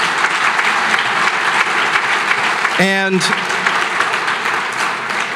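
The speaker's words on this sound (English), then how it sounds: "Give him another round of applause as well." A gala audience claps steadily and loudly throughout, with a short spoken word breaking through the dense applause near the middle.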